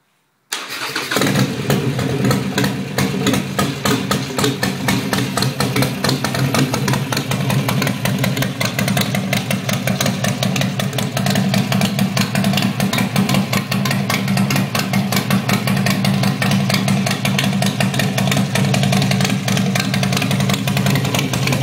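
A Harley-Davidson XL Nightster Dark Custom motorcycle cranks and fires up close by, then settles into a loud, steady, lumpy idle that runs on without any talk.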